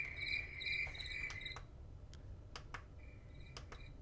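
A Dekala Arches light-up alarm clock plays a recorded night-time nature soundscape: high, rapid cricket trills come in bursts over a soft low rumble, with brief clicks between them, quiet and steady with no voices.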